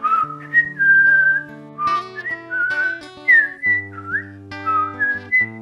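A man whistles a melodic tune alone, clear and close, in short phrases with brief pauses between them, while a low sustained musical backing plays underneath.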